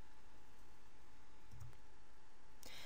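A computer mouse clicks once on an on-screen button, a single faint, sharp click near the end over a steady background hiss.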